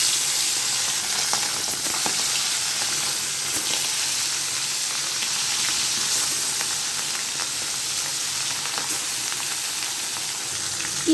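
Fish pieces sizzle steadily in hot oil in a home kitchen while Bengali fish bhuna is cooked, a dense, continuous crackling hiss with scattered sharper pops, close and fairly loud, no voices.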